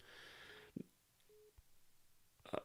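A phone busy signal after a dropped call, faint electronic tones that cut in and out in short bursts, with a few soft clicks between them and no talking.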